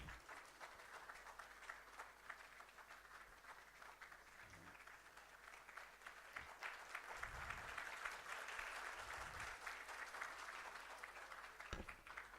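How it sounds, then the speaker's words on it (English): Sustained audience applause at a conference inauguration ceremony, a dense wash of clapping that swells midway and continues for the full stretch, fairly distant and moderately faint, with no voices heard. "I'm requesting the huge round of applause continuously"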